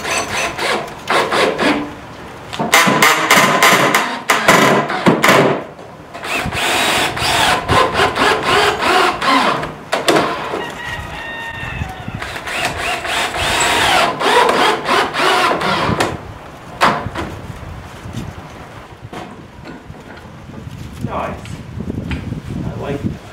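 Long screws are driven into a butcher block workbench. Gritty grinding and rasping bursts come in stretches, close and loud, with brief pauses between runs and some talk mixed in.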